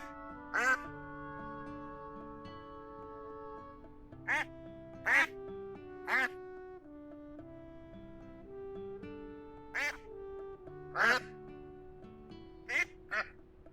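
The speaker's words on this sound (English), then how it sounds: "The way they quack, it sounds like they're laughing." Ducks in the video game Teddy's Haven give bursts of loud quacking, about eight separate calls spread across the stretch, over soft in-game background music.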